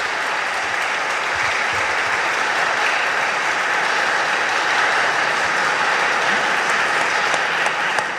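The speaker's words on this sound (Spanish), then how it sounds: "Quiero pedirle un aplauso al Padre José de Jesús." A church audience at a parish evening applauds for several seconds, loud, dense and sustained clapping with no voices over it.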